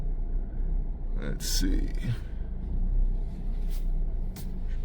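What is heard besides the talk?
car being pulled out of the garage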